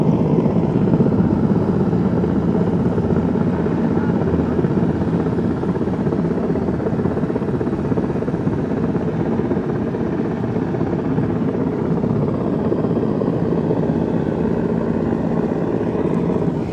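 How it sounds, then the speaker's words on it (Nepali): A rescue helicopter flies over flood-ravaged Melamchi bazaar in Sindhupalchok, Nepal, after heavy rain. Its loud, steady rotor and engine roar runs without a break throughout, close by and with no talking. "यहाँनिर हेलिकप्टरले 2 जना मान्छेको उद्धार गर्ने कार्य भइरहेछ।"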